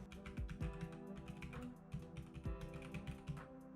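Typing on a computer keyboard while writing Unity game code, a quiet run of close key clicks in an irregular rhythm over a low steady background hum, with no voice.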